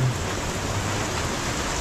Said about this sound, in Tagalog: at yan ang ulan.